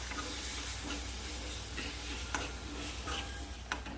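A steady sizzle of paste frying in hot oil, with a few light clicks of a spoon stirring in the pan.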